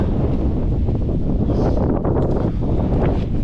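Strong wind buffets the microphone near the summit of Rysy, Poland's highest mountain, a loud continuous roar with gusting surges that stays steady throughout.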